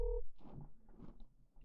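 A phone dialed on speakerphone: a short, clear tone opens, followed by soft, muffled low clicks and rustles at modest volume.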